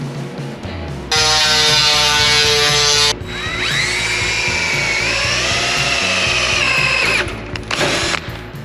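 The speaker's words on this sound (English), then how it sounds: "I drilled some holes in the edges because those are going to be the flanges" A power drill bores holes in the edges of sheet metal for the cab corners of a 1930 Dodge coupe being turned into a pickup, two loud sustained whining bursts with a rising pitch in the second, close up in a workshop.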